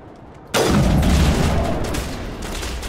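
Sniper rifle fire in the video game Mass Effect Legendary Edition on PC, during a battle against a Geth invasion: a sudden loud blast that sets off a sustained roar of gunfire, continuing dense and unbroken to the end.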